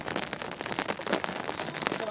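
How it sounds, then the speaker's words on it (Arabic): Steady rain falls on a surface at a camp in open grazing country, an even, continuous patter with no let-up. "أمطار متواصلة، أمطار متواصلة سبحان الله"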